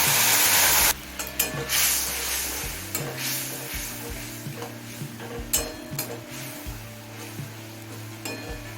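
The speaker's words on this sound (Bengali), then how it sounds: "এবার মিডিয়াম ফ্লেমে মশলাটা কিছুক্ষণ কষিয়ে নেব" Spice paste of chilli powder, cumin powder, salt and a little water sautés in a pan for a rohu fish curry: a short burst of sizzling, then quieter frying with repeated scraping and clinking strokes of a spatula.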